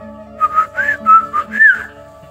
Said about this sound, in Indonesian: dia segera memanggil si lutung dengan siulan